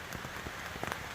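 Rain falls steadily around an outdoor campsite among large trees, a faint soft patter of drops hitting surfaces nearby with no talking.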